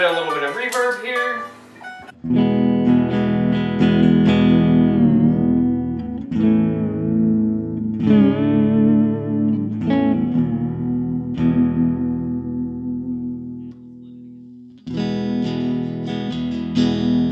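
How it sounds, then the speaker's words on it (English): Electric guitar through a Fender Frontman amp with a Tone City Comp Engine compressor and a touch of reverb, strummed chords and picked phrases ringing out with a soft wash of tail, close and fairly loud, pausing briefly before a final chord. "Give it a little bit of reverb here."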